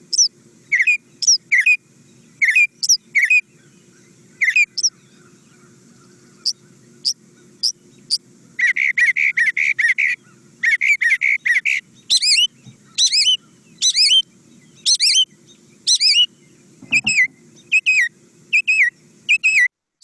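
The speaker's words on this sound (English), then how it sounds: "a northern mockingbird singing right outside of your window, which I did include here" Northern mockingbird singing right outside a backyard window, a long run of varied, rapid chirps, trills and whistled phrases in repeated bursts with short pauses, loud and close over a faint low background hum.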